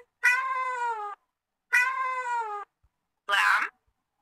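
A kitten meows three times, each call clear and close with short pauses between, the last one harsher and shorter.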